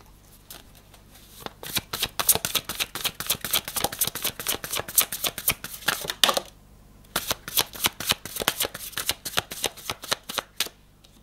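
Tarot cards are shuffled by hand in quick, repeated riffling bursts with crisp slaps, close up and steady, pausing briefly midway before resuming.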